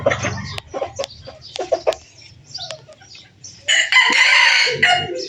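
A rooster crows loudly and close by near the end, after a stretch of scattered clucks and chicken calls.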